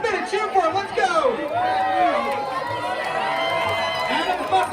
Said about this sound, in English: Come on, let's cheer for him.